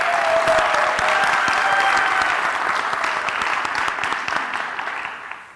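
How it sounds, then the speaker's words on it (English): An audience at a lecture event applauds a pianist after a Brahms performance, a close, steady clapping that gradually fades out over about five seconds. "Let's give another round of applause to Dr. Paul Higdon on his remarkable playing."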